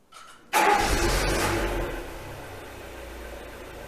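Volkswagen Golf 7 engine cranks and catches after a quiet opening, started remotely, then settles into a steady idle close by with no one talking.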